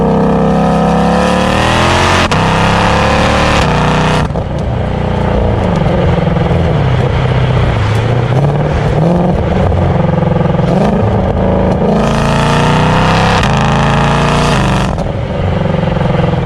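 A 2022 Shelby GT500 or Dodge Challenger SRT Hellcat engine revs loudly as it accelerates while short shifted, with rising pitches broken by quick gear changes, heard close up with no talking.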